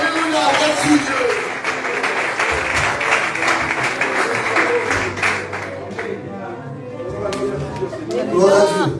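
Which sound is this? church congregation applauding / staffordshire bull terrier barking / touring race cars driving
church congregation applauding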